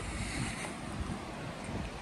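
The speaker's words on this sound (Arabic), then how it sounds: "ها هو البحر" Sea waves and wind at a shore in a Spanish coastal town, a continuous broad rushing wash with heavy wind buffeting across the microphone, steady and loud throughout.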